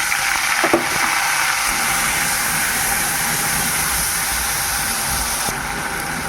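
Cumin seeds and bay leaf sizzle in hot oil in a wok for a cauliflower curry, a steady close hiss of frying with a few faint clinks.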